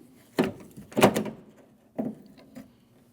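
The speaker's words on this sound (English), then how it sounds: "Take your door handle, pull it out like as if you were opening the door, and then pull it towards you." Front exterior door handle on a 2012-2016 Honda CR-V being pulled out and worked free during replacement: four separate plastic-and-metal clunks and clicks, close up, with short quiet gaps between them.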